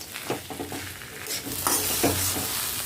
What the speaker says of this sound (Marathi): आता हे व्यवस्थित मिक्स करून घ्यायचं आहे